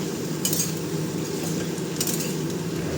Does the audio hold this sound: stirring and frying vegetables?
yes